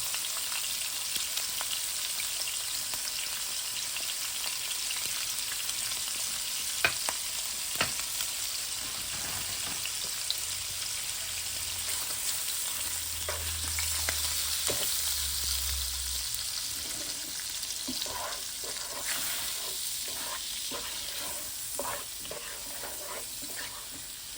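Shrimp and sausage sautéing in a pan, a long, even sizzle up close with occasional clicks and scrapes of a utensil and faint low rumbles, no speech.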